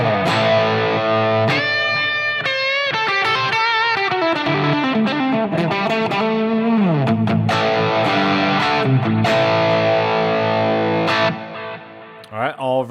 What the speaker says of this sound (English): when I go to the lead sound, it adds in a delay.